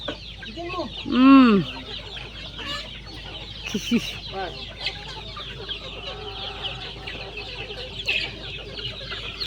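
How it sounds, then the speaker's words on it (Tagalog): Native chickens on a provincial farm cluck and call in a busy flock, with one loud nearby squawk early on and scattered softer clucks continuing throughout. "grabe ang mga manok."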